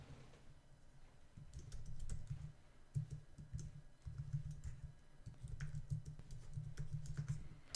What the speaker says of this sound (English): basically just type my options.